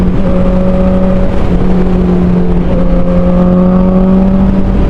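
Honda CBR 650R engine on the move, a loud continuous hum that holds steady, dips once and rises again, with road and wind noise underneath.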